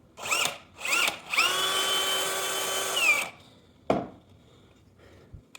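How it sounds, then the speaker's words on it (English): A DeWalt cordless drill driving an ice fishing auger whirs in two short bursts, then runs steadily for about two seconds and winds down, followed by a sharp knock and quiet. "This is my new setup. DeWalt drill"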